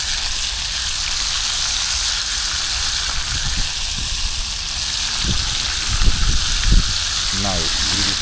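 Curry accara fritters fry in hot oil outdoors in a garden, a steady loud sizzle filling the scene with a few soft clunks near the end and a voice breaking in briefly.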